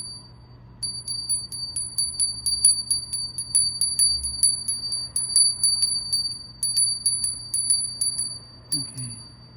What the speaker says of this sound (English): I'm going to ring the bell really quick to clear the energy